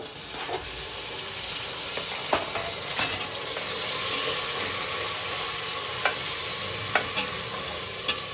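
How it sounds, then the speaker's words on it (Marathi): Tomato sizzles with golden brown onions in a pan over low heat, a steady close frying hiss broken by occasional sharp spatula scrapes and clicks, no voices. "कांदा चांगला गोल्डन ब्राऊन झालेला आहे. आता मी त्यात टोमॅटो टाकलाय आणि गॅस छोटा केलेला आहे."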